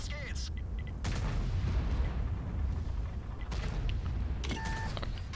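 A tank cannon fires in the World of Tanks video game, a deep booming report followed by rumbling, with further low blasts and game sounds over a few seconds.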